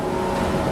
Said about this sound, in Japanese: 発車して間もなくの直線で当時の国鉄型電車の特徴の MT54 型モーターの爆音ぶりを発揮します。